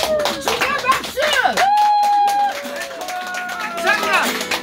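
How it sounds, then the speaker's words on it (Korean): An audience claps at a year-end Korean song performance at a seaside fish restaurant by Jukbyeon port in Uljin. The applause is patchy, and a singer's voice and talk ring out over it. "주세요. 박수."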